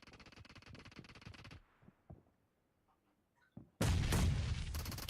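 Grenade blast in the mobile battle royale PUBG Mobile, with rapid gunfire first, a quiet gap with scattered small pops, then a loud, sudden booming burst that keeps roaring under continued heavy noise.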